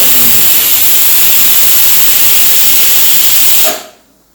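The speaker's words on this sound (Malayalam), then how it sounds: "പനീർ ബിരിയാണി കുക്കർ അടിച്ചു തുടങ്ങിയിരിക്കുന്നു." A pressure cooker cooking paneer biryani releases a loud, steady steam hiss close by, which cuts off abruptly near the end.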